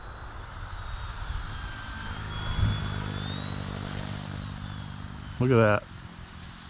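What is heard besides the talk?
Durafly AUTO-G2 V2 RC autogyro flying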